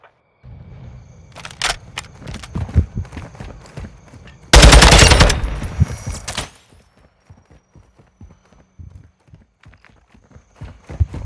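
Gunfire in Call of Duty: Modern Warfare II, a series of sharp single shots followed by a dense burst of rapid fire, then scattered quieter shots and thuds continuing to the end.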